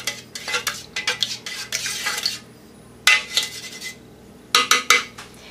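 Melted soy wax for candles is stirred in a container, producing rapid bursts of scraping and clinking from the utensil against the sides, with short pauses between rounds; close and loud, no talking.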